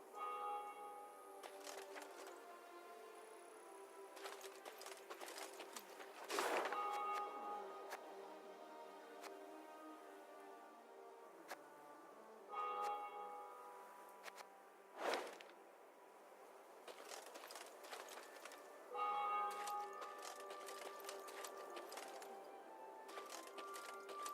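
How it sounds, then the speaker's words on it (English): Temple bells in the video game Thronebreaker ring out in several separate bursts of bright, sustained tolling with quieter gaps between, moderately distant and with no voices. "they heard the bells of a temple to Mother Melitele, situated at some distance"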